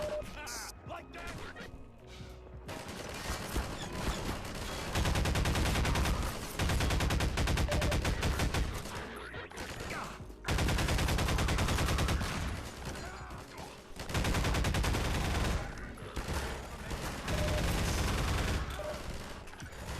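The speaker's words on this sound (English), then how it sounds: "This pulse cannon has such a chunky sound to it." Pulse cannon fire in the Half-Life 2 video game, heavy chunky blasts in loud sustained bursts with short gaps between, mixed with explosions and combat clatter, a voice briefly audible early on.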